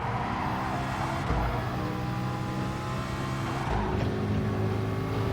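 Toyota and Porsche LMP prototype race cars in Gran Turismo Sport, a loud continuous engine drone with shifting revs and gear changes, close and steady with no voices.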